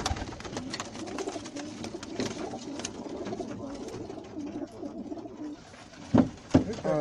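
Young rolling pigeons coo in a backyard loft, a dense, continuous murmur of soft cooing from many birds close by, with a couple of sharper flutters or calls near the end.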